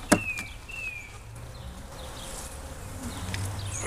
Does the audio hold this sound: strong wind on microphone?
no